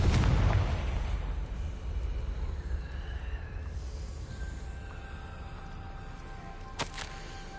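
Confringo blasting spell from the video game Hogwarts Legacy, a deep booming explosion at the start that rolls off into a fading rumble, followed by softer magical shimmer and a sharp crack near the end.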